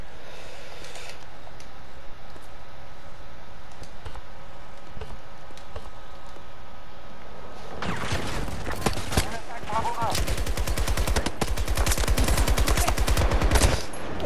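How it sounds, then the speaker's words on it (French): Machine gun fire in Battlefield 2042, a quiet stretch of ambient game noise giving way to dense, sustained bursts of rapid automatic shots over the last six seconds. "On va plutôt prendre la mitrailleuse."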